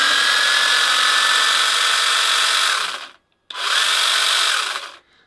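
A cordless electric 5-inch mini chainsaw whirs at a high, steady buzz, cuts off briefly, then runs again before stopping; close and loud, no talking.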